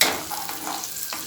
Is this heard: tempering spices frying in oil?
yes